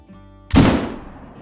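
A single sharp rifle shot is fired at an elk in the theHunter: Call of the Wild hunting game. The loud crack is followed by a rolling echo that fades over about a second.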